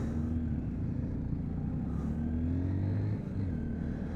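A Honda XR150L motorcycle engine runs smoothly and steadily on an on- and off-road test ride, a close, even rumble with a slight pitch shift near the end and no voices.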